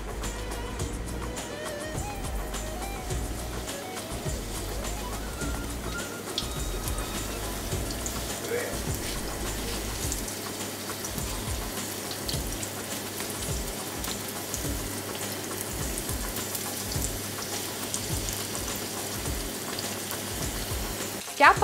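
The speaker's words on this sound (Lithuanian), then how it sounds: "Į įkaitintą aliejų dedam mūsų suktinukus ir apkepam, kol apskrus iš abiejų pusių." Turkish cheese rolls fry in hot oil, giving a dense, even sizzle that hisses steadily and close throughout with no pauses.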